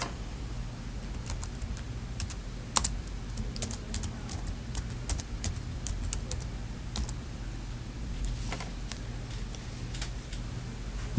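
Computer keyboard typing, a steady run of light irregular keystrokes close by with a few sharper clicks, over a low constant room hum; no talking.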